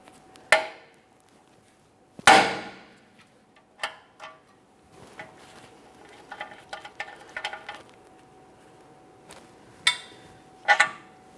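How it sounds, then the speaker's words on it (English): Hammer taps on the steering knuckle of a 2017-2023 GMC Acadia: a handful of sharp, close metallic knocks spread out, with a quicker cluster of lighter taps in the middle and a final double strike, separated by quiet. "we're going to lightly tap on the steering knuckle with a hammer"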